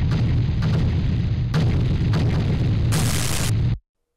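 Asteroids and ships blast apart in the video game Space trash: a dense run of explosive booms and pops, with sharp bursts and a bright crackling blast near the end before it cuts to silence.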